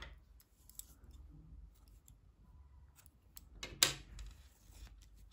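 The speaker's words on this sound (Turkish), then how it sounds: "İpliği kesiyorum." Scissors snip through knitting yarn, several quiet clicks and a single crisp, louder cut near the end, close and without talk.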